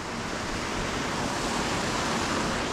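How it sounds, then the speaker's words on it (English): Waterfalls at a creek confluence along the GR20 mountain trek between Petra Piana and Capannelle, a steady, dense rushing roar of falling water, close and continuous with no breaks. "Waterfalls. Oh, it's like a confluence."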